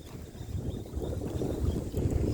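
Strong wind buffets the microphone with a continuous low rumbling roar, steady and loud throughout, no voices.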